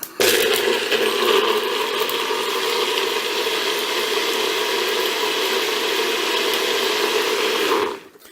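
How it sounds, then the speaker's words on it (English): A blender grinding up food, including hemp seeds, runs steadily and loudly for about eight seconds with a dense whirring roar, then stops abruptly near the end. "let's grind this thing up"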